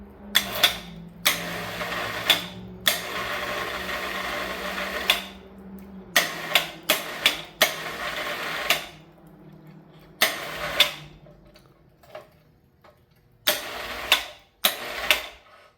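A hoist ratchets and clanks in uneven bursts and lifts a Kohler Command Pro ECV980 engine out, with close mechanical rattling broken by short pauses and a steady low hum under it.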